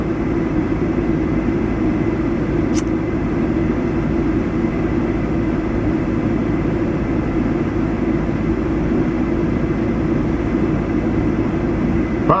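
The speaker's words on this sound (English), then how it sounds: "Motor's running on the truck." Truck engine idling with the hood raised after the truck went into a ditch, a steady low rumble continuing unchanged throughout with no voices.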